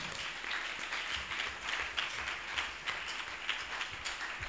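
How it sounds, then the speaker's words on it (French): A church congregation claps and applauds continuously, a dense, even patter of many hands that carries on for several seconds at moderate loudness, with faint voices underneath. "Hey, acclame pour lui."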